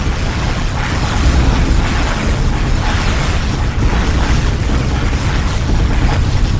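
Core overload explosion in the video game Dawn of War: Dark Crusade, a dense, loud, sustained roaring blast of rumbling noise without pause.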